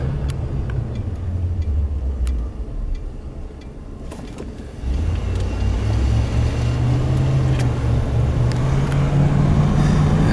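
A 1989 Ford F-350 XLT Lariat crew cab 4x4 pickup with a 7.5L 460 engine drives by with a steady engine rumble that dips briefly, then climbs again through gear changes as it moves.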